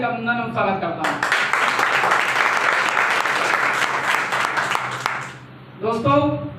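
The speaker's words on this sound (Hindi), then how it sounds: "जोरदार तालियां होनी चाहिए।" Audience applause breaks out at a speaker's event, a dense, sustained wash of clapping for about four seconds that fades out, with a voice speaking before and after.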